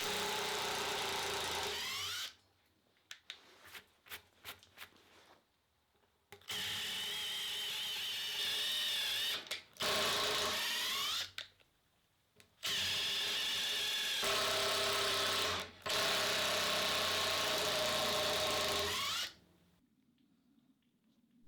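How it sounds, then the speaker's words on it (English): A Makita drill fitted with a hex-shank masonry bit runs at medium speed in repeated loud bursts, each lasting a few seconds with short pauses between, the motor whine steady and close. "We drill at medium speed."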